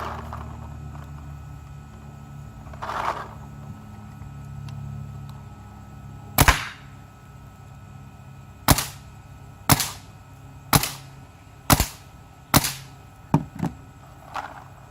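A Dye DSR paintball marker fires through a chronograph, about eight sharp cracks spaced roughly a second apart, with the last two coming quicker, loud and close over a low background hum, no talking.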